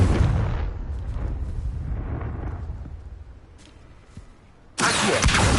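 A Confringo fire spell from the Hogwarts Legacy video game explodes with a broad booming blast, its rumble fading over several seconds before a second loud burst erupts abruptly near the end; no talking.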